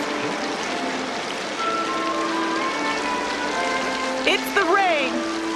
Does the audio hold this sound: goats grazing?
no